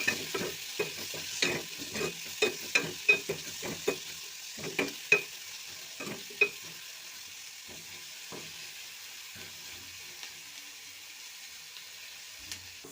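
Curry leaves tempering in hot oil while a spoon stirs with a soft steady sizzle, and a string of sharp scraping clicks against the pan that thin out toward the end.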